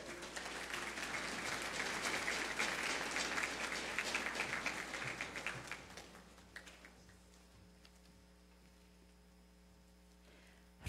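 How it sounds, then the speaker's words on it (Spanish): Audience at a regional award ceremony in Los Santos applauding, a full round of clapping that swells, then thins out and fades into quiet room hum. "con un fuerte aplauso"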